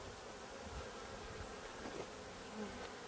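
Honeybees buzz densely and steadily at close range as frames are moved from a five-frame nuc into an eight-frame hive, a continuous droning swarm with no voices.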